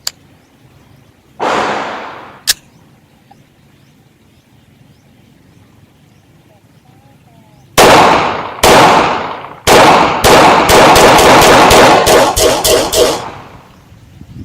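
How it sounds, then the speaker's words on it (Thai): Beretta PX4 pistol shots fired outdoors, two sharp reports with echo, then a rapid string of loud bangs in quick succession. "บาเลตต้า ยิงพีเอ็กโก่อน"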